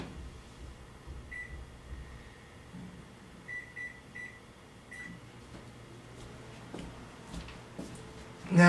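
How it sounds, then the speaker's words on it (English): A powerful microwave oven runs with a steady low hum and faint fan noise, a few short high beeps sounding now and then, before a louder clunk at the end. "Put it in the powerful microwave for like 2 minutes, 34 seconds."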